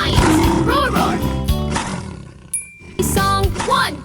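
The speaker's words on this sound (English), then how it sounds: "10 lions, roar, roar." Lions roar twice in a children's counting song, loud roars set into music with a sung voice and a brief chime between them.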